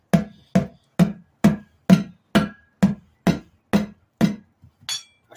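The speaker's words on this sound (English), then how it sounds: "Take your hammer and just tap it right here." Hammer tapping on a bicycle tire rim while removing the tire by hand: ten sharp metallic taps in a steady, even rhythm, close and distinct, followed by a faint rustle.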